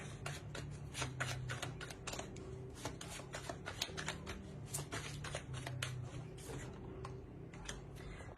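Tarot cards are shuffled close by in quick, crisp riffling bursts with soft ticking card flicks, repeated throughout at a quiet level with no talking.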